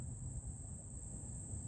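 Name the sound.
bees at a nest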